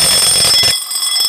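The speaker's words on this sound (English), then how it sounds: "Notifier by Honeywell BG-12L Pull station. I'm using a powder bell. So, let's see what it sounds like." A fire alarm powder bell on a Summit SFC-105 system rings loud and close after a Notifier by Honeywell BG-12L pull station is activated. The steady clanging thins partway through, and no one speaks.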